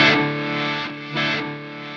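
Electric guitar run through a Quad Cortex with its reverse delay switched on, distorted tone with swelling repeats that blend and overlap, two sustained phrases rising and fading alone, fairly loud and close.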